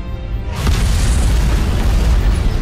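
A loud, deep explosion from an antimatter charge detonating aboard a ship in Halo Combat Evolved Anniversary, played on PC. It bursts in sharply after a brief lead-in, then a heavy rumble fills the rest of the moment with no talk.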